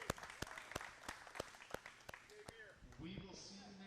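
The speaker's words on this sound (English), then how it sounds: "let's give them a big round of applause" Scattered hand clapping at a tech meetup talk, a steady patter of claps from a small group, with voices and a cheer rising near the end.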